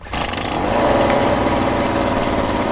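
Small engine on a green Crocs-branded powered multi-tool unit cranks and catches, then runs steadily and fairly loud with a rough, buzzing idle close by.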